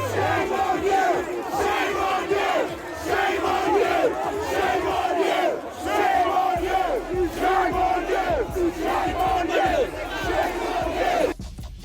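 Large protest crowd shouting and chanting loudly as police move in to disperse it, a continuous dense roar of many voices with rising yells and cries throughout, close and unbroken.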